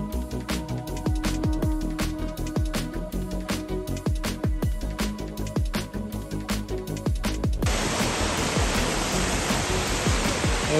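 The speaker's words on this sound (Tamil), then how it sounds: "I'll take you to a lot of falls like this." A waterfall at a dam in Munnar, Kerala, roars in as a loud, steady, broadband rush near the end, following a stretch of regular clicking and handling noise.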